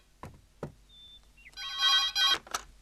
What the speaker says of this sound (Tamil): அம்மா ஃபோன் அடிக்குது